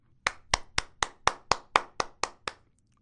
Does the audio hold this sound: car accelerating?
no